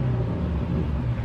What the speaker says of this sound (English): listen to this thing. I'm gonna give it a little rev.